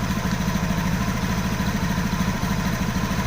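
A Honda automatic scooter engine idles at 1600 RPM, close and steady, with a continuous low putter of rapid, even pulses that holds throughout.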